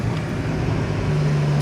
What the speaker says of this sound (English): Sounds so good with the downshifts